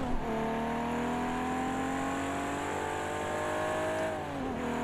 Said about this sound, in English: Great sounding car.